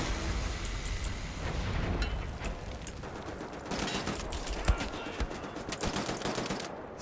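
Small arms gunfire in the video game Wolfenstein: The New Order, rapid overlapping bursts of shots crackling continuously at mid distance, with a few sharper louder cracks standing out.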